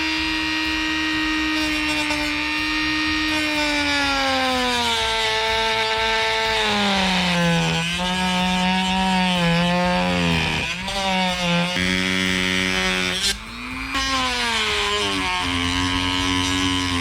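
A Dremel rotary tool cuts off excess bracket material during a light controller install, a high, buzzing whine that sags and climbs in pitch as the bit bites in, with brief dips and stutters.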